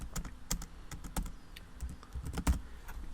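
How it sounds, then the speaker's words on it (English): Text typed on a computer keyboard, a close, fairly quiet run of irregular key clicks and taps, with no talk. "So we can just type in some text here"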